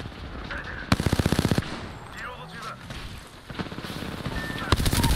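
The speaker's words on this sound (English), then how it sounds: "Oh, you blocked all my shots." Gunfire in Apex Legends, including a car SMG, comes as loud rapid automatic bursts with brief pauses, mixed with background game sounds.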